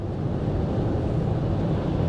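Steady wind noise roars around a 2023 Toyota Sienna XSE AWD minivan driving in strong, gusty crosswinds. It is a continuous low rush, with no talking.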